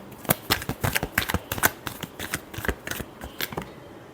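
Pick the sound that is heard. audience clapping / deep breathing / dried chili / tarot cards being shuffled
tarot cards being shuffled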